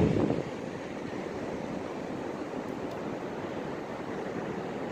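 Pacific Ocean surf on the Oregon coast at about 50 degrees, a steady distant wash of waves mixed with wind buffeting the microphone, with no voices.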